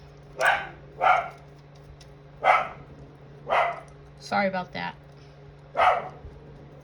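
A dog barks about six times in loose succession, fairly close, with a short burst of quicker yips partway through; a person briefly speaks over it.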